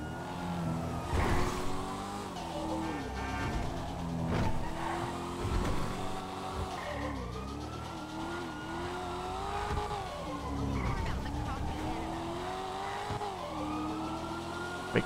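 Chevrolet Caprice wagon with an LSX twin-turbo engine driving in the GTA 5 video game, with steady engine drone rising and falling through revs and brief tire squeal, loud and close throughout with no talking.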